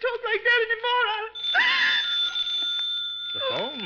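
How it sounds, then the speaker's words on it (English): Old-fashioned telephone bell ringing as a sound effect in a 1951 mystery radio drama, a shrill sustained ring following a wailing voice, with speech starting again near the end. "The phone, Matilda."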